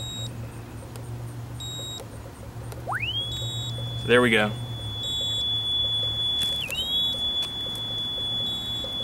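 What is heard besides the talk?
Jameson Duct Hunter locator beeping when units matched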